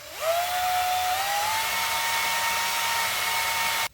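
An electric drill spins up sharply and whines at a steady high speed for several seconds while it drives a tool cutting a thread, then stops abruptly.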